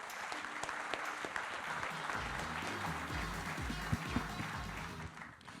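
Audience at a business conference applauds steadily throughout, a dense even wash of hand claps from a seated crowd indoors, with a few sharper claps standing out near the end.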